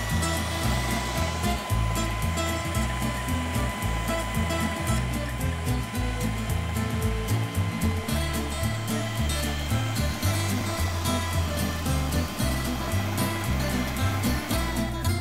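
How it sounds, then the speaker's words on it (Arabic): A blender whirs steadily through tomato and basil dip ingredients, a loud continuous motor roar with churning texture that holds unbroken throughout and has no talk over it. "نضرب بقى الحاجات اللذيذه دي مع بعض"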